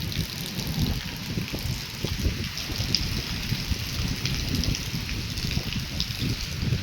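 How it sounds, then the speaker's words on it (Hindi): Heavy monsoon rain pours down steadily over crop fields, a dense, continuous hiss with no pauses, close and fairly loud throughout. "ये बारिश हो रही है इतनी भयंकर, डेली डेली बारिश हो रही है"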